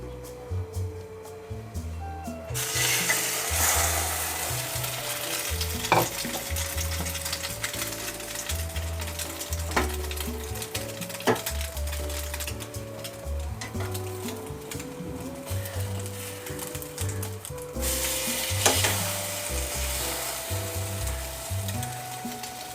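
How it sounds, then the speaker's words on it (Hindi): Bread slices for French toast frying in a pan, a continuous close sizzle with intermittent scrapes and taps from a turner as the toast is flipped and pressed. "इसी तरह से मैं सारे टोस्ट फ्राई कर लूँगी।"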